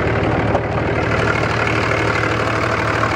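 A stock 2007 Dodge Ram 2500 Big Horn with a 5.9L Cummins diesel idles steadily, a close, continuous low rumble with a faint knocking rhythm and no talk over it.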